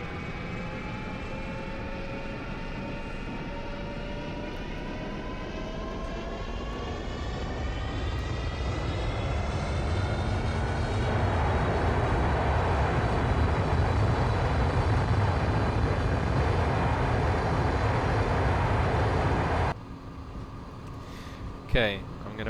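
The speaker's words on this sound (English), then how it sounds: "I want you to hear the sounds of this awesome engine" An airliner's jet engines spool up to full throttle in the X-Plane 11 flight simulator, a steady roar with rising whine tones that grows louder over about twenty seconds, then cuts off abruptly near the end.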